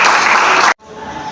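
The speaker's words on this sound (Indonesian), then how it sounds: "tepuk tangan" An audience at a talk breaks into dense applause that cuts off abruptly after under a second, leaving quieter room tone behind.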